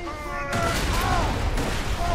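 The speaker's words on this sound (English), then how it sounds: "Who said you could start shooting at me?" Enemy gunfire in Borderlands 2, a dense burst of shots and impacts that starts abruptly and keeps going loud and steady, mixed with game effects and a brief voice.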